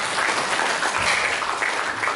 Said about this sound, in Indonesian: Berikan tepuk tangan dulu bagi Tuhan